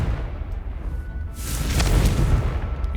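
A Confringo fire spell explodes in the Hogwarts Legacy video game: a sudden broad blast about halfway through swells into a loud, rumbling burst over a low steady game ambience.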